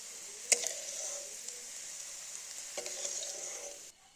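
Onions sizzle steadily in a pan as they fry to light red, with a few sharp scrapes and clatters of a spoon stirring them, then the sound cuts off abruptly.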